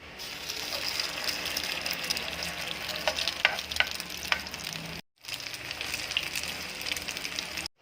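Banana heart fries in hot oil with a dense, bright crackling sizzle, a few sharp clicks partway through and a brief cut to silence near the end.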